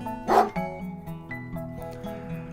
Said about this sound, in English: A friendly bark made me smile